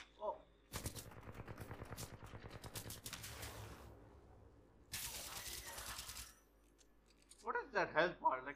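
Rapid weapon fire while shooting enemies in the video game Titanfall 2 on hard campaign: two dense bursts of automatic gunfire, loud and close, then a voice briefly at the end.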